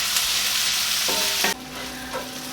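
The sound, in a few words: onions caramelizing in a pan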